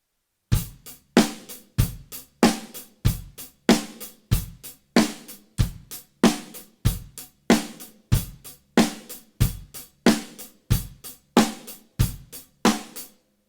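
A steady, loud drum kit beat repeating evenly, hi-hat with kick on 1 and 3 and snare on 2 and 4, sharp hits with ringing decays, played alone with no talking.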